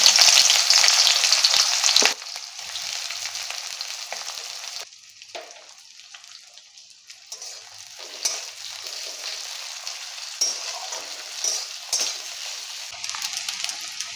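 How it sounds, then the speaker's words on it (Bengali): Onion frying in hot oil in a pan with bay leaf, dried red chillies and cumin, a loud steady sizzle at first that drops after a stir, then crackles on more quietly with bursts of spattering. "পেঁয়াজটা ভাজা হয়ে এসছে"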